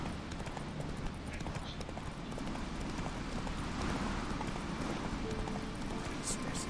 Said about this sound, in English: Atım gelsin de.